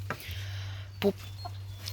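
Hens in a backyard coop give a few short, soft clucks spread over two seconds against a low, steady electrical hum.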